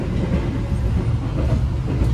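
The KA Taksaka passenger train rolls on the rails out of Yogyakarta, a steady loud low rumble with no distinct clacks or voices.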